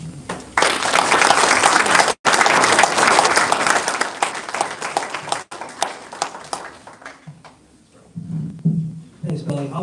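At an honor society induction ceremony, the audience claps for the guest speaker, a loud burst of applause that holds, breaks briefly, then tapers into scattered claps with some voices at the end.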